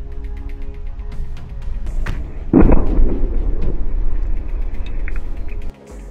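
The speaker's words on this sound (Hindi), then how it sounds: "हमास के लड़ाकों ने इसी बिल्डिंग को बारूद से उड़ा दिया।" Explosives detonate inside a building in western Jabalia during wartime fighting, a sudden loud deep boom with rumbling debris that trails off over a few seconds, set against a noisy background of lighter knocks and distant thuds.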